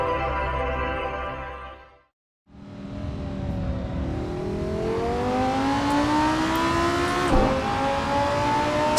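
A Lamborghini Gallardo LP570-4 SL V10 in Assetto Corsa on the Nordschleife cuts out briefly, then pulls hard with a loud rising engine note that climbs steadily through the revs, with one short shift near the end.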